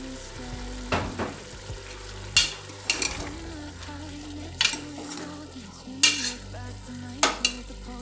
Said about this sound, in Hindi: अब इसको यहाँ पे भूनना है।